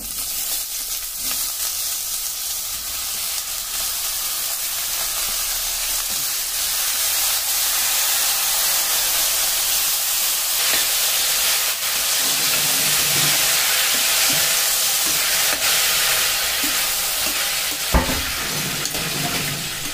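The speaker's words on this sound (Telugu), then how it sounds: "మళ్ళీ ఇందులోకి సేమ్ ప్యాన్లోకి బీరకాయ ముక్కలు, టమాటా ముక్కలు వేసుకోవాలి" Ridge gourd and tomato pieces sizzle in a hot pan as they are stirred, a continuous loud hiss of frying with occasional scrapes and clinks of the utensil, and no talking.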